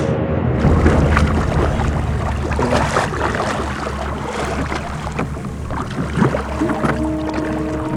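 A boat motor runs steadily on open water in Costa Rica, a loud continuous drone with wind buffeting the microphone and splashing throughout.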